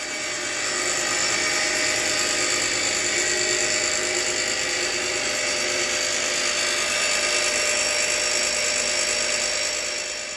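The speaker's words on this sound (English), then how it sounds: "before upgrading my table saw to machined pulleys and a lathe belt." A Craftsman 113 table saw with its original pulleys and belt runs steadily, a constant loud whine and hum with no change in pitch or speech.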